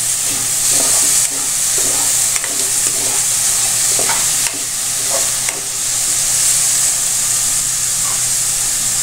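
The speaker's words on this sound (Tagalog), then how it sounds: "Kaya haluin ko." Seasoned rice porridge bubbles in a pot on the stove, with a loud steady hiss and steam and intermittent clinks and scrapes of a spoon stirring, close up and with no talking.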